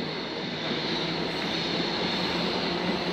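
A train departs Stowmarket station heading for London Liverpool Street, a loud continuous rumble of rolling wheels and rail noise that holds steady throughout.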